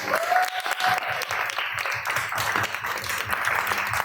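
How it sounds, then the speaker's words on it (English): Audience applause at a book launch panel discussion, a dense, steady wash of many hands clapping for about four seconds, fairly close and loud, with faint voices mixed in. "Please give them a round of applause."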